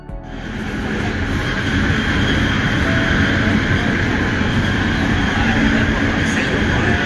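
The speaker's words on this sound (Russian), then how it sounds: "Так, метро Гонконга." A Hong Kong subway train rumbles steadily and loudly through the station, a continuous roar with a faint high whine and metallic hiss.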